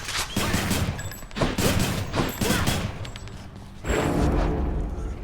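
Rail weapon gunfire in the Hades video game comes as dense rapid bursts of shots, loud and continuous, with a short lull before another heavy volley near the end.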